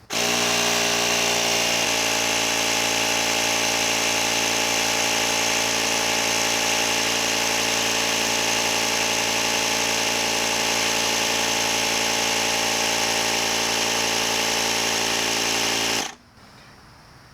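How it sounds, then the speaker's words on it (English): A DeWalt or Ryobi cordless tire inflator compressor pumps up a car tire, a loud, steady motor drone with a strong mechanical hum that runs continuously before cutting off abruptly near the end. "The compressor stops at 32 psi because I told it to, and now my tire is good to go."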